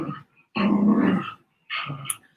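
A dog growls close by in two short, throaty bursts separated by a brief pause.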